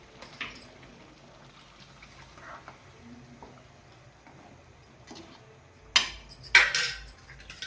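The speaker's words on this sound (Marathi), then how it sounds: "त्याला आपण झाकण ठेवूया।" A lid is set onto a pan of peas cooking for a homestyle matar paneer bhaji. After a quiet stretch with faint kitchen ticks, two sharp metallic clanks ring out close together near the end.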